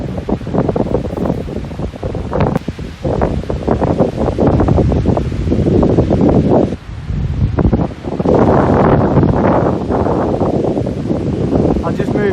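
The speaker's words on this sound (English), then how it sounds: "The wind is picking up." Strong gusting wind from Storm Dennis buffets the microphone outdoors, roaring loudly in waves with brief lulls; a voice speaks faintly under it.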